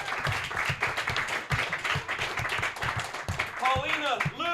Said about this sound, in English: Please clap it up for Paulina Breeze,